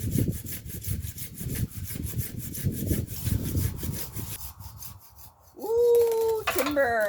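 A hand saw cuts through timber on a tree at a ruin in Portugal, its strokes rasping in a steady back-and-forth rhythm, close and loud, before the sawing stops and a brief whine and tonal creak follow.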